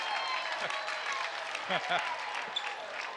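High school basketball crowd at an Orono vs St. Louis Park boys game applauding a step-back three, a brief burst of clapping and cheering with shoe squeaks and court noise mixed in.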